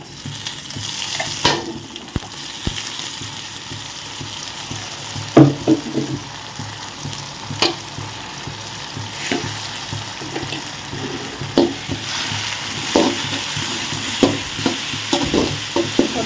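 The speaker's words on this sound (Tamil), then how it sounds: "இப்போ நம்ம வந்து அரைச்ச இஞ்சி பூண்டு பச்சை மிளகாய் கொத்தமல்லி புதினாவை வந்து போட்டு நல்லா பச்சை போ வாடை போகும் வரைக்கும் வதக்குவோம்" A ground paste of ginger, garlic, green chilli, coriander and mint sizzles in a pan as it is sautéed, with a constant frying hiss and irregular scrapes and knocks of the stirring spoon, close up and without speech.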